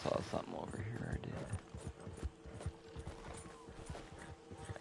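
Horse hooves clip-clop in the Red Dead Online video game, a quick run of close, light clattering steps alongside creaks and mechanical clicks, with a voice talking over the start.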